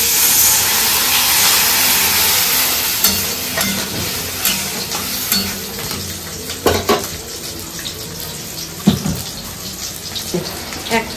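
A Bengali spice paste of chili, coriander and ground cumin sautés in a pan with a little water. It gives a steady loud sizzle and hiss with scattered clinks of a utensil against the pan.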